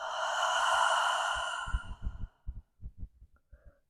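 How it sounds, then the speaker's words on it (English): A long, slow exhale through the mouth during a gentle low-back stretching yoga practice, a soft breathy rush lasting about a second and a half and fading out, followed by faint low thumps and quiet rustling. "Exhale through the mouth."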